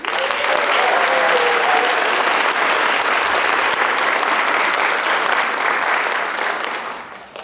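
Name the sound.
audience applause at a school band concert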